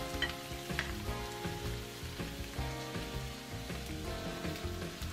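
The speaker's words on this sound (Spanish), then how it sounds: "Y ahora lo vamos a remover todo y le vamos a añadir el vino que nos quedó." Beef loin sizzles loudly in a pan as it is stirred with wine, a dense frying hiss with scraping under steady background music.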